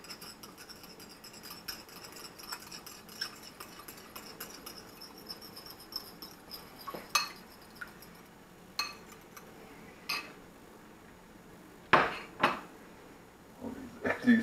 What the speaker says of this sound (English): First thing we're going to do is crack an egg. I'm going to stir the egg up.